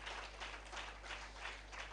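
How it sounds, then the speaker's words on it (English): Steady broadband applause from a crowd, a dense wash of many hands clapping at once, even and continuous throughout with a low hum beneath. "Can we give a very, very thunderous round of applause"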